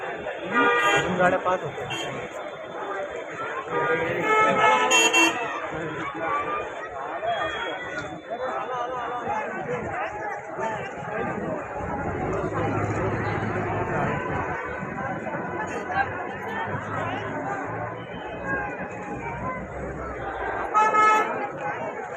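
Busy roadside traffic at a midnight Shiv Jayanti gathering, with vehicles passing close by and short car horn toots around the start and end, under steady crowd chatter and people talking throughout.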